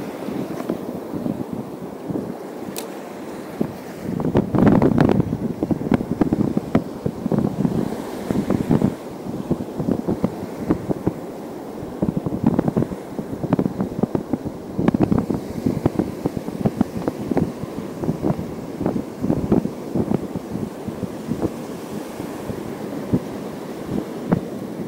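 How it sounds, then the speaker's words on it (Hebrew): Wind buffeting a fishing boat at sea, a continuous rough rumble with gusting surges and waves slapping against the hull, loud and close for the whole stretch with no one speaking. "יש קצת רוח היום, ים סבבה"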